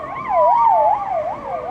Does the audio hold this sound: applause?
no